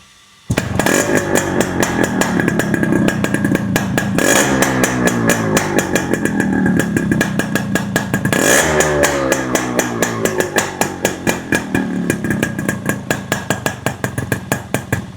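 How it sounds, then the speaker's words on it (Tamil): A restored stock Yamaha RX100 two-stroke motorcycle revs and idles close by, its loud crackling exhaust rising and falling through two big throttle blips before settling into a steady, choppy putter. "இன்ஜினோட எக்ஸாஸ்ட் நோட் கேளுங்க."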